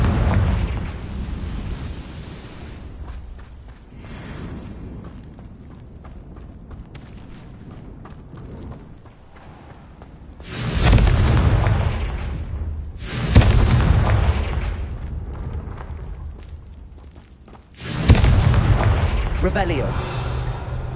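Confringo fire-blast spell explosions in the Hogwarts Legacy video game on PS5, three loud booming bursts spaced apart over a rumbling game soundtrack.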